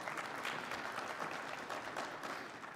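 At a commencement ceremony, a crowd applauds commissioners, and the clapping stays fairly faint and even at a distance throughout.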